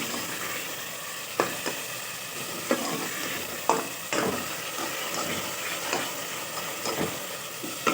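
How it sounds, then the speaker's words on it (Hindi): Spice paste (masala) for chicken shorba fries in a pot, a close, steady sizzle broken by repeated scraping stirs of a spoon at irregular intervals. "तो हम इसको अच्छी तरह भून देते हैं।"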